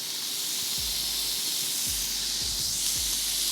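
Four bacon slices sizzling in a pan while cooking outdoors on a beach, a steady bright hiss broken by soft low thumps and pops.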